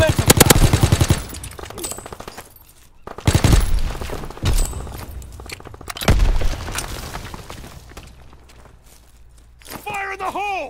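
Call of Duty WW2 firefight with sustained machine gun bursts, scattered gunshots and booms, loud and close, with game voices shouting between volleys.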